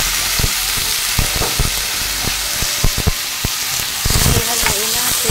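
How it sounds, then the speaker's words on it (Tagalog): Chicken pieces hit a pan of browned garlic and onion for a chicken curry, setting off a steady close sizzle with sharp crackles and spatter, and the frying grows louder near the end. "brown na yung ating bawang at saka sibuyas. Ilagay na natin ating chicken."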